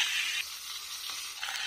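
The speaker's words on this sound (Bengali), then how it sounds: "মাছের এক পিঠ ভাজা হয়ে গেছে, এখন আমি উল্টিয়ে দেব।" Rohu fish fries in hot oil in a pan, giving a steady, close crackling sizzle with a brief stir or shift of the pieces near the end.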